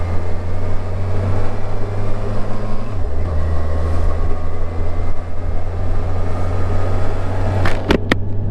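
A 2007 Yamaha FJR 1300 sport-touring motorcycle on the move, a constant loud engine drone and wind rush heard from the rider's position, with a brief dip and some rattles.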